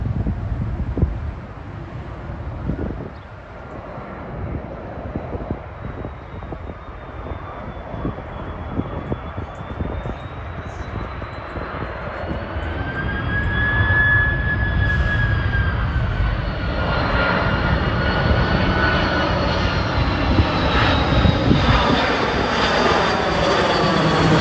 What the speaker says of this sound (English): coming in is Air Serbia from Belgrade. Airbus 330, I believe.